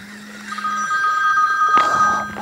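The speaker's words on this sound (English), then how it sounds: "It's ringing." A telephone rings with a steady electronic warble, cutting in twice in short bursts over a low hum.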